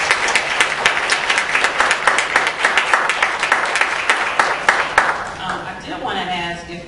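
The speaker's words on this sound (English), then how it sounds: "If you guys can give them a round of applause." Engineering students at a general body meeting give a panel a round of applause, loud close claps in a fast irregular rhythm that keep going for about five seconds, then taper off while a voice and room noise take over.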